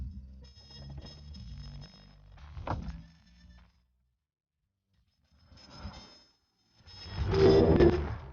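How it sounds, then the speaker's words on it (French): The hydraulic soft top of a 1992 Mercedes 300 CE Cabriolet folds, with whirring motor and pump noise, clunks and a clatter, a pause of near silence, then a louder rising mechanical whine. "le système hydraulique plie ou déplie tout de même en moins de 30 secondes ce toit souple"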